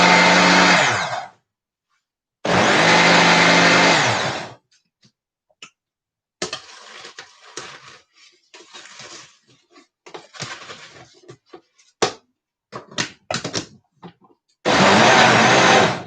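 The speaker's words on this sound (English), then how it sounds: "I'm blending" A kitchen blender whirs loudly while blending a healthy fruit smoothie with a little water, running in three bursts of several seconds, with quiet clinks and handling noises between them.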